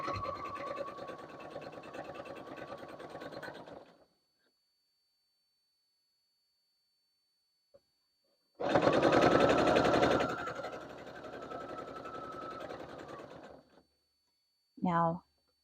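A sewing machine runs steady rapid stitching along quilt binding for about four seconds, falls silent, then starts again with a louder burst that settles into an even run before stopping.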